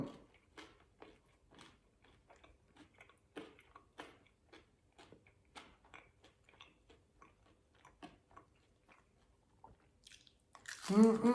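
Someone bites into and chews a crispy thin-crust pizza made without an oven or cheese, with soft repeated crunches up close, quiet and rhythmic, ending with a louder burst of noise.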